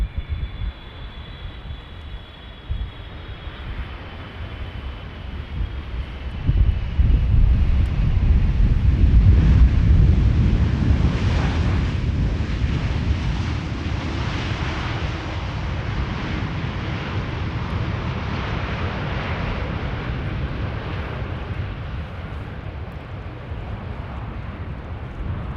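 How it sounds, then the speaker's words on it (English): A KLM Boeing 777-300 arrives at Amsterdam Schiphol from Sao Paulo, its low engine rumble swelling to a loud peak overhead and then easing off, with wind buffeting the microphone. "777-300 airtime, KLM flight 792, arriving from Sao Paulo"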